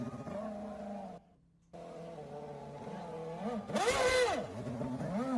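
A Formula 1 V8 engine revs in rising and falling harmonic sweeps, with a brief cut-out and a loud high-pitched rev surge near the end, all fairly faint and without talk.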